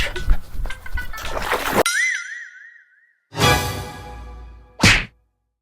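Loud, close water splashing and thrashing comes from fishing and duck catching in water, followed by a wobbling boing effect and two more short bursts of splash.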